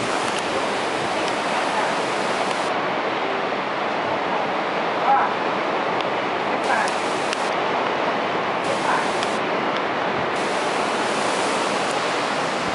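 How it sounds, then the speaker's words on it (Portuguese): Water runs steadily from a hotel apartment tap that opens with a shower-like flow, a dense, even rush filling the whole stretch with only faint shifts. "A torneira abre que nem o chuveiro,"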